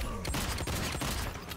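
Rapid gunfire from a fighting video game during a tournament match, a dense burst of repeated shots layered over loud game effects, with no voices.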